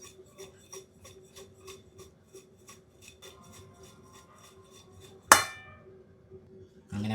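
Lemons, green chillies and salt are stirred in a jar with a series of quick rhythmic scraping rasps, then a single sharp clink near the end, close and fairly quiet with no talking.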